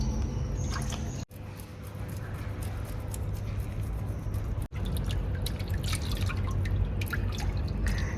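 Cut fish pieces are rinsed in water for a fish biryani, with close wet splashing, dripping and squishing sounds in an irregular rhythm, punctuated by a couple of brief pauses.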